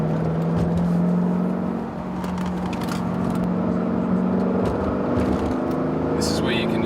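V8 ute engine droning steadily while driving, a continuous low hum with road noise and occasional revving swells throughout, with people talking over it.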